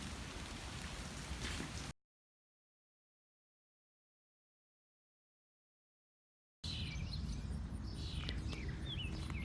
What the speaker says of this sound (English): it's out here raining